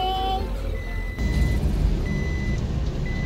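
A vehicle backs up with intermittent electronic reversing beeps over a loud, steady engine rumble, heard up close with no voices.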